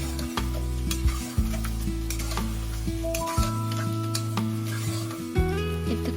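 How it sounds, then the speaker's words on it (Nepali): Chopped onions frying in a pan for chicken yakhni pulao, a steady close sizzle with scraping stir strokes, alone under low background music or hum. "प्याजलाई पनि मजाले चलाउँदै पकाउँदै"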